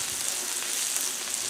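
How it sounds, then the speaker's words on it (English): Butter sizzling on a hot Blackstone griddle while smash burgers cook, a dense continuous hiss and crackle up close, steady throughout with no talking. "let's get some butter down on the griddle"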